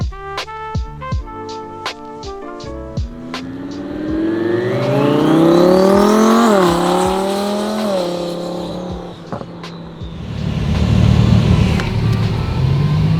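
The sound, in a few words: twin turbo Audi R8 car accelerating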